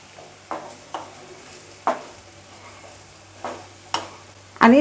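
Homemade red masala and turmeric sauté in oil with ginger and garlic, a quiet sizzle punctuated by a handful of distinct spoon scrapes and taps against the pan, the last one louder, nearby and unaccompanied by talk.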